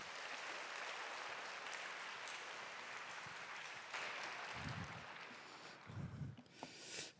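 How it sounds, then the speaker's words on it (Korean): Church youth service congregation applauding to welcome a guest pastor, a dense and fairly quiet wash of clapping that lasts throughout, with a few louder low thumps toward the end. "홍정호 목사님 나오실 때 큰 박수로 환영해 주시기 바랍니다"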